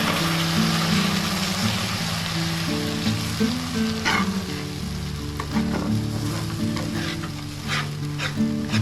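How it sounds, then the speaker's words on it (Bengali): Jaggery and a little water added to a hot pan while making dry-fruit barfi: a steady, close, continuous sizzle and bubbling with stirring, over faint background music and no talk. "এখন দিলাম আমি গুড়, অল্প দিলাম অল্প জল।"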